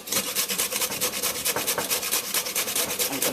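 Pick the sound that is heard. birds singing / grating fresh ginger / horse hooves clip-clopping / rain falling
grating fresh ginger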